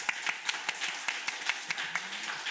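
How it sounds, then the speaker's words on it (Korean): A church congregation at a Sunday afternoon service claps in a fairly quiet, rhythmic pattern, individual hand claps standing out in a regular beat over soft background clapping. "하나님께 영광의 박수 한번 돌려드리죠."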